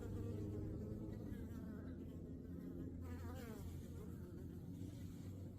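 Honeybees buzz outside their hive on a cold day around 2°C, a steady dense hum of many wingbeats holding constant throughout, close and continuous with no talk.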